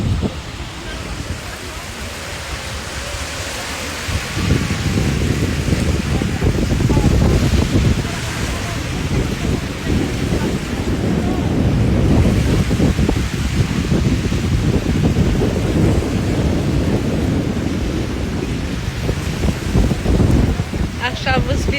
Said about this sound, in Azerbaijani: Siz mənim səsimi eşitmirsiniz hərdən, küləyin səsindən.